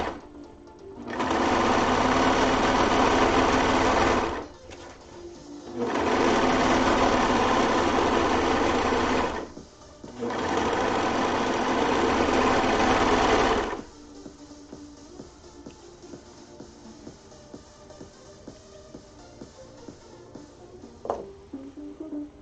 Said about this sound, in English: I'm just overlocking these side seams first.